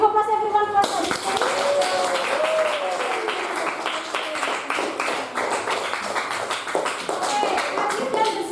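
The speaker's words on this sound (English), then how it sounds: "Give applause everyone for Sabita." Students in an English classroom break into clapping after a classmate's answer, scattered hands patting briskly for several seconds while a voice talks over the start.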